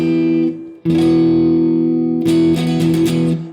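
An Ibanez Iron Label RGRTB621 electric guitar plays through its neck pickup with the power tap engaged, giving a loud, full sustained chord. The chord cuts off briefly, rings again, and ends with a few rhythmic strummed accents.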